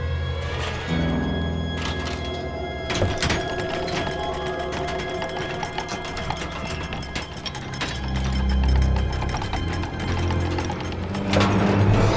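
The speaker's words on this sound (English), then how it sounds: "I'm lowering an elevator for you even." A mechanical elevator in the video game Lost in Random lowers with a continuous ratcheting and clanking of gears, some heavier thuds partway through, and a dense, close, steady mechanical grind.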